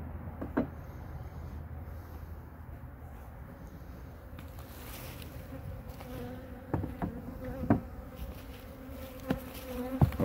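Agitated honey bees buzzing around an opened hive, a dense steady drone close by, with a few wooden knocks and clunks of hive boxes being handled, and no talking.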